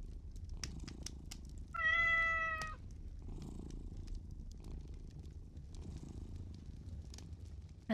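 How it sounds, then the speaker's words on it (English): Cats meow in the indie horror video game Strange Toilet 2, one clear drawn-out meow standing out over a low rumbling background with scattered faint clicks and soft purring noise. "That's a lot of cats."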